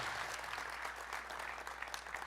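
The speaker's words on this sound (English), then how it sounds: "Give this guy a huge round of applause" Steady audience applause in a lecture hall for a strength-training speaker, a dense, even wash of many hands clapping without a break, fairly soft.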